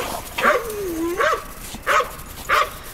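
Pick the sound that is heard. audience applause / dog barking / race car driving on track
dog barking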